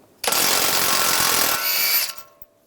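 An impact or power tool spins off a nut with an 18mm socket during steering rack bellows replacement on a 2013-2016 Dodge Dart, one loud, close, continuous whir lasting about two seconds before stopping.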